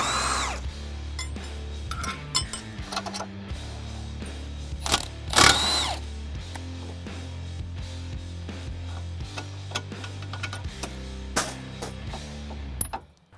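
A power tool whirs in repeated bursts while removing the 18 mm radius rods on a Polaris RZR during an axle swap, with music playing steadily throughout and a sharp hiss midway.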